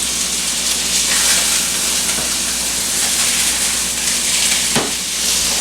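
Salisbury steak patties browning in a preheated pan give off a loud, steady sizzle and hiss, with a brief sharper crackle near the end and no talking.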